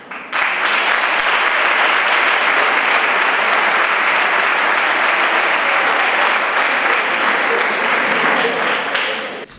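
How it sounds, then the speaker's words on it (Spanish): Loud, dense audience applause at a school's 20th-anniversary gala for IES Alarifes Ruiz Florindo, greeting a finalist at the Goya awards segment; steady sustained clapping from a large crowd that runs unbroken for nearly ten seconds before cutting off. "Un fuerte aplauso"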